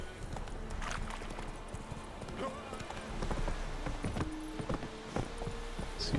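Roach the horse trots with steady clip-clopping hooves along a swamp road in Witcher 3, the rhythmic footfalls running throughout, joined by a brief whinny and a light game ambience.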